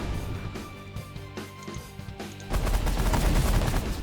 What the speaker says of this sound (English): So let's just set it on auto fire.